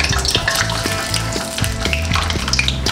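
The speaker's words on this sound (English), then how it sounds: "Adding your pork belly." Pork belly for chicharon sizzles and crackles loudly in hot oil, with a steady frying hiss and close pops throughout.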